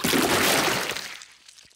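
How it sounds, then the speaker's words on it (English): A cartoon splash of muddy water thrown over a car, a loud broad whooshing slosh that fades quickly to quiet drips, heard alone without voices. "Peppa has thrown the muddy water all over the car."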